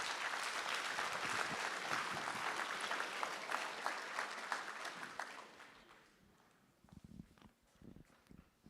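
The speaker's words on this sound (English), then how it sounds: "let's give all of these a hand of applause" An audience at an annual association meeting applauds honored members, a full round of clapping that fades after about five seconds, leaving a few scattered claps and room noise.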